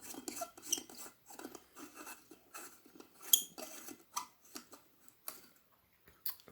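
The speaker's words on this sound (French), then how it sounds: "alors j'essaie de dévisser l'ampoule correctement" A light bulb being unscrewed from a lamp socket, a quiet run of close, irregular glassy scrapes, clicks and small metallic ticks with short pauses between turns.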